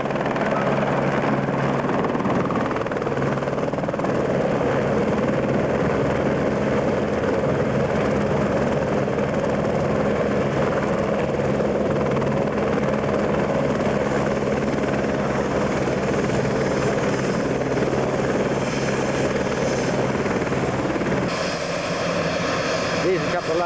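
Tourist ride helicopters flying overhead, a loud continuous rotor and engine roar with steady choppy pulsing that fills the whole stretch, with a voice talking over it.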